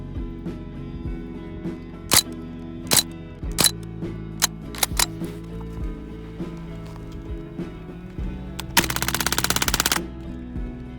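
Umarex Strike Force BB gun, roughly 550 fps, firing at a computer mouse from about five yards: a string of sharp, loud cracks at irregular intervals, then a rapid rattling burst near the end, over a steady background hum.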